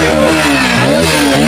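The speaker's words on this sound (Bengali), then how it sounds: "গাড়ির আওয়াজ শোনেন" A Bajaj Pulsar NS motorcycle engine revs up and down at close range, its pitch rising and falling in quick throttle blips over a steady loud rumble, with no talking.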